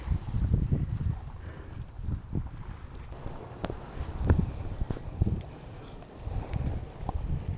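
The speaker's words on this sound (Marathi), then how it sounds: "इकडे हवा भयंकर फास्ट आहे" Strong wind gusts buffet the microphone with deep, rumbling bursts out on open water off Mumbai during fishing, rising and falling irregularly.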